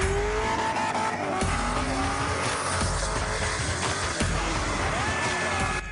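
A hoon car does donuts in an industrial area, its engine roaring loud and close under sustained, rising tire squeal for the whole stretch.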